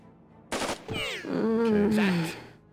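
Gunshots from the video game Jagged Alliance 2, a burst of sharp cracks followed by a groaning, roaring tail of game effects, moderately loud and close with no talk.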